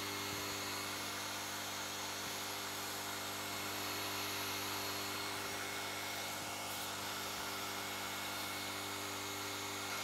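An Ortur Laser Master 3 laser cutting through MDF gives off a steady mechanical hum with fixed droning tones and a faint airy hiss, constant and unbroken throughout.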